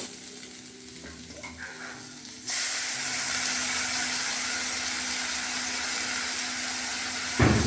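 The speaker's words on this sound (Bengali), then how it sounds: "আলু পটলটা ভাজা হয়ে গেছে, মশলাটা দিয়ে দেব।" Potato and pointed gourd pieces frying in a pan with spices: a quiet stirring scrape, then a sudden loud, steady sizzle and hiss that holds for several seconds, close and uninterrupted by voices.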